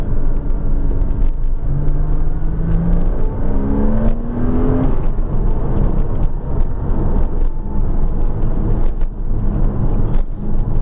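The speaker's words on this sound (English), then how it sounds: "That flat 6 under load sounds like a turbine. Loves to be revved." A Porsche Cayman S flat-six engine revs under load on rainy roads in the Peak District, rising in a smooth whirring climb, then settling into a loud, steady rumble from inside the car with wiper thumps.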